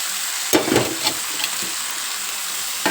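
Raw banana curry with tomato and onion fries in a pan, a close steady sizzle punctuated by a few sharper scraping stirs near the start, with no talking.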